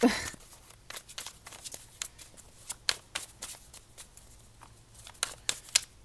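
A deck of playing cards is shuffled up close, sharp crisp riffles and snaps coming in uneven bursts, with no talking.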